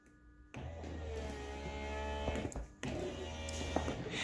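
A BMW Z3 convertible top hydraulic pump starts with a click and hums steadily, a low motor drone with a brief pause and restart partway through.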